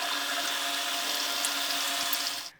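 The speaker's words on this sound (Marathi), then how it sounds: "तेल असं मध्यम गरम झालं की त्यामध्ये या कापण्या सोडून तळून घ्यायच्यात." Bajra flour kapnya fry in medium-hot oil with a dense, steady, close hiss and sizzle that cuts off abruptly at the end.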